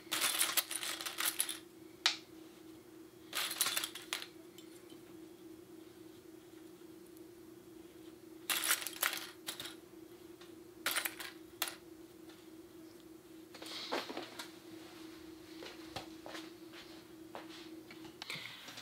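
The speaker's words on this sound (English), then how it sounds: "we're gonna go over there and sew it all the way around" A sewing machine stitches around a fabric baby bib in several quick, rattling runs over a steady motor hum, with short pauses between runs.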